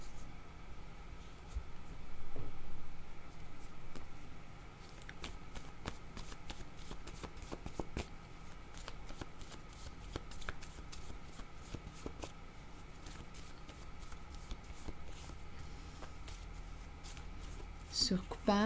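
Playing cards are shuffled for a card reading in rapid, crisp riffling bursts that continue throughout, fairly close, with a soft voice speaking faintly underneath.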